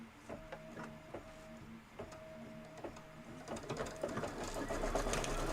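A sewing machine stitches a Kimberbell Cup of Cheer project in bursts, its quiet mechanical whir starting and stopping several times, with rustling and handling noises building toward the end.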